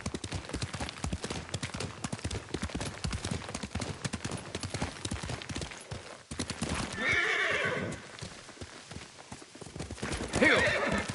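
Hooves of a horse named Nobu pound in a fast gallop in the samurai video game Ghost of Tsushima, with two loud whinnies breaking through the steady clip-clop rhythm.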